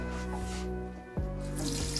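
Water runs from a sink tap in a small room of a cheap house in Hanoi's Old Quarter, a close, steady flow with a brief dip and a knock partway through.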